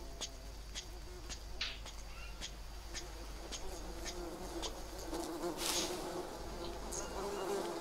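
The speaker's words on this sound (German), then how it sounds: "Dann schauen wir mal, wie es aussieht mit meinen Bienen." Bees drone continuously around a beehive in Green Hell, a steady close insect buzz with scattered clicks and faint bird calls in the jungle background.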